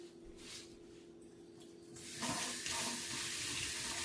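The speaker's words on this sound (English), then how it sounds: "Rinse my hands." Kitchen tap gushing into a sink as hands are rinsed while preparing beef for a slow cooker, a low hiss that swells into a steady, louder splashing rush close by with no talking.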